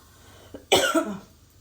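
A single sharp cough, preceded by a faint catch, is heard close up in a kitchen while peppers are being roasted and their fumes reach the throat. The cough trails into a short throaty follow-through.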